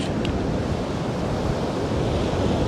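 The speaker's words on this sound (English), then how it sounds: "I'm taking Kim out for a walk on the beach" Surf washing onto a Florida Gulf beach at Topsail Hill Preserve State Park, a loud continuous roar of breaking waves mixed with wind buffeting the microphone, no voices.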